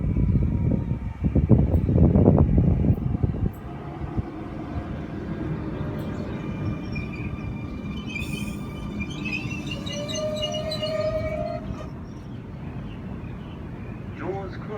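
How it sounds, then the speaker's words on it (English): Sydney Trains M-set pulling into platform 2 at Dulwich Hill station, a loud rumble and roar at first that settles into a steady mechanical hum with squeals and brake hiss, a voice talking over part of it. "M-set arriving into platform 2, M14 is leading."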